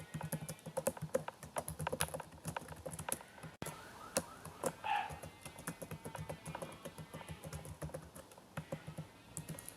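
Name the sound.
typing login details on a computer keyboard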